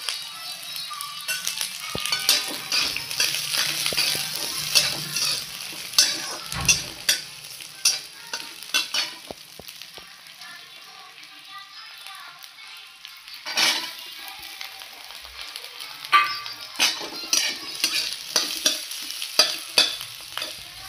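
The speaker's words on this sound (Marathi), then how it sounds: "थोडं तेल टाकून घेऊया, आलं लसूण आणि कांदा भाजून घेऊया।" Ginger, garlic and onion fry in oil for a Marathi dry mutton dish. A spoon scrapes and clinks in the pan in frequent bursts over a bright, steady sizzle, close and clear with no talk.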